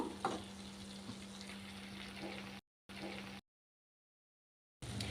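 Chicken liver frying with spice powders in a pan, giving a steady, moderate sizzle with a low hum beneath, broken by two abrupt silent gaps.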